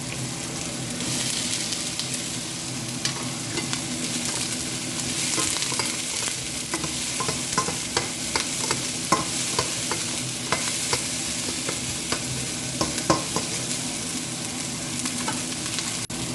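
Garlic sautéing with translucent onions in a pan for chicken afritada: a steady close sizzle with frequent light scrapes and taps of a stirring utensil throughout.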